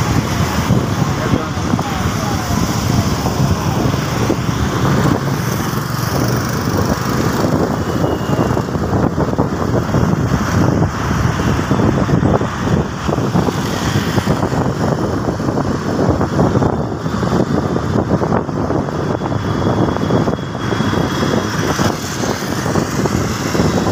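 A congested road in a traffic jam roars with a dense, continuous rumble of engines and wind buffeting the microphone, with people talking throughout.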